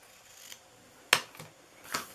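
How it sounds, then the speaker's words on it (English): Scissors snip small paper tails for an Easter bunny treat box: a few short, crisp cuts, the sharpest one near the middle, heard close and alone in a quiet room. "Gonna cut little tails on it."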